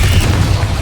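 A Confringo spell explosion in the Hogwarts Legacy video game: a short, loud, deep booming blast with a rumbling low end.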